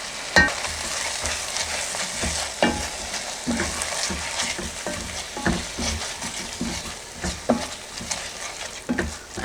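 Tomato paste sizzles loudly in a pan with peppers, garlic and rosemary while a spoon stirs it, scraping and knocking in an irregular rhythm over a constant frying hiss.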